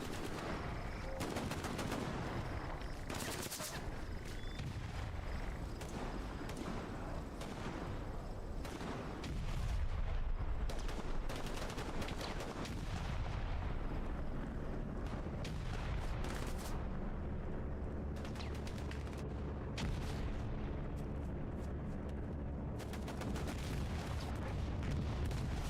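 Explosions from a bombing run mixed with heavy gunfire in a video game battle, dense rattling bursts and booms going on steadily and loudly throughout.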